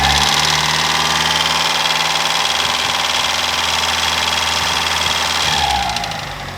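A Ford Focus RS engine idles with engine flush added, giving a steady, close, low mechanical hum with a slight vibrating rumble that holds evenly before dropping away at the very end.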